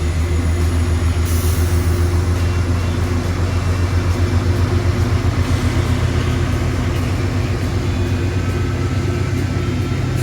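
An Amtrak Genesis diesel locomotive hauling a passenger train rumbles past, a loud, sustained roar with rhythmic wheel clatter over the rails throughout, no voices.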